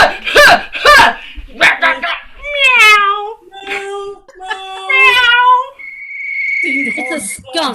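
A performer on a comedy improv stage imitates a cat meowing, with drawn-out, wavering vocal meows rising and falling among bursts of speech and laughter, plus a long high sustained tone near the end.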